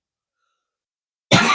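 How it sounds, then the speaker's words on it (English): A single sudden cough from a woman, loud and close, breaking out after a stretch of silence. "I'm just gonna keep coughing"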